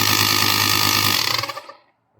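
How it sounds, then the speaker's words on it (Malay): A small cordless tire inflator compressor motor, KEELAT KCI02, runs loud and close with a rapid buzzing rattle, then winds down and stops within about two seconds. "boleh dengar motor dia kuat juga okay, compressor biasalah, mestilah kuat kan"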